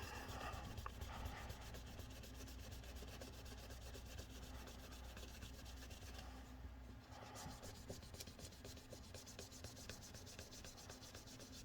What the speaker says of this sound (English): let's see what happens if we polish up the back